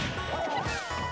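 A sharp impact from an up smash attack in a Super Smash Bros. 4 tournament match. It lands as a quick whooshing crack that rises out of the busy game sounds.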